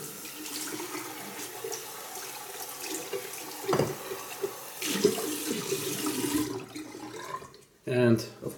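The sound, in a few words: rinsing a shaving bowl under running tap water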